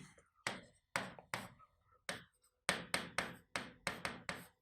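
A brass or bronze plate set on a large clay pot is struck with a stick, producing about a dozen sharp, ringing metallic hits in an uneven then quickening rhythm, close and fairly loud, with no voices.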